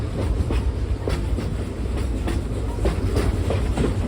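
A Frisco Silver Dollar Line steam train, No. 504, rolls along the rails with a steady rhythmic clickety-clack of wheels over joints under a low rumble.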